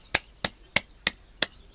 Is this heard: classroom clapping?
yes